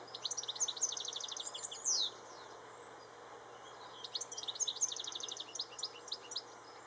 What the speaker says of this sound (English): It's such a lovely bird, this. I have these in the garden. Goldfinch.